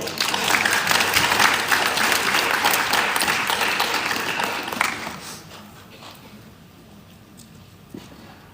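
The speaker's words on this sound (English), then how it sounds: "Please give him a big round of applause." An audience at the United Nations Day of Vesak event in Bangkok gives a big round of applause, loud and dense for about five seconds, then it quickly dies away to near quiet with a few stray claps.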